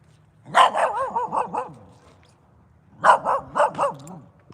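Two loose dogs barking nearby, heard as two separate bursts of several sharp barks with a quiet pause between them and no talk.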